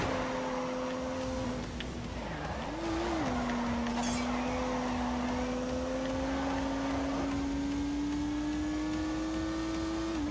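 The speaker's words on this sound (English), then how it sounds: "unleashed 365 rampaging horsepowers from the turbocharged 3-litre straight 6" A turbocharged 3-litre straight-six car engine in The Grand Tour racing video game holds a loud, steady droning tone, dipping and rising briefly early on, then climbing slowly as it keeps pulling for about ten seconds.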